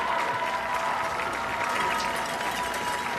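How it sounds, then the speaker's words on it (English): A crowd applauds at a Virginia High vs. Lebanon high school football game, steady dense clapping from a large outdoor gathering sustained throughout at moderate loudness. "round of applause"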